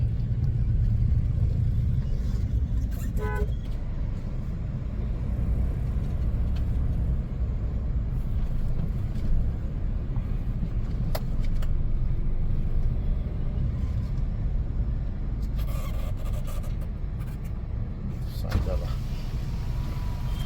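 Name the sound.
car driving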